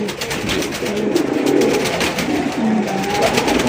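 Deep, repeated coos of a fancy racer pigeon roll on steadily over a busy, noisy background of chatter and ambient sound.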